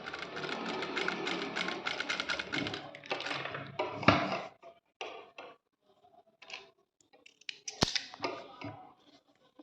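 A sewing machine stitches a normal straight seam at a 2.5 stitch length during a tailoring class, chattering in quick rhythmic bursts. These give way to scattered clicks and short runs separated by quiet gaps.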